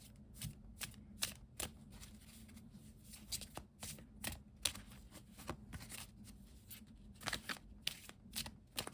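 Tarot cards are shuffled by hand for a five-card cross spread. Soft, close riffling and slapping bursts repeat in an uneven rhythm for the whole stretch, with no talk.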